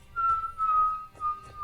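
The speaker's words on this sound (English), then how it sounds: "Both of you faintly hear a sort of whistling sound" A thin, steady whistling tone of something hurtling through the air, fairly faint and continuous, rising and dipping in loudness over a couple of seconds with no talk.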